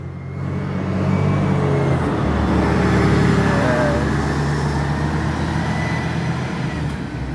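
A luxury Tronton Mior sleeper bus on the Sumbar–Jakarta route drives past nearby, giving a steady, loud engine and road rumble that swells slightly and then holds, with no voices.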